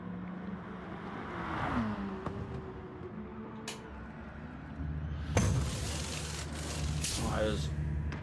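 A Gr3 race car in a Mount Panorama league race rolls into its pit box, its engine whining and revving close by under a lively race commentator's voice, with other cars droning past.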